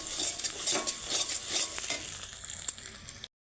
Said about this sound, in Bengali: এই ডিমটা কিন্তু ঝুড়ি ঝুড়ি করে নেব।